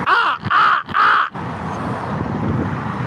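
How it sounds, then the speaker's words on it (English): Three loud, harsh crow caws in quick succession from a nearby bird, followed by steady traffic and street noise at a sheriff's department lot. "Look, there goes one of my crow buddies."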